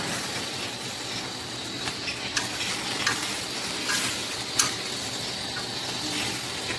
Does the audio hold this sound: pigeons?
no